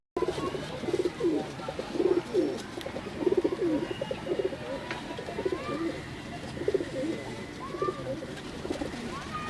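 Many pigeons in a loft give steady, repeated low coos in rhythmic rolling bursts, moderately near, with faint chirps and background rustle.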